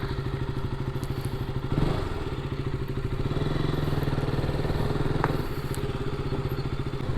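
A motorcycle engine drones steadily and loud throughout while riding along the road, with a low pulsing rumble, a thump near two seconds and faint clatter over the top.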